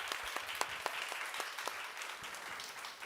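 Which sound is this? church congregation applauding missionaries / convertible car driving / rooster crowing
church congregation applauding missionaries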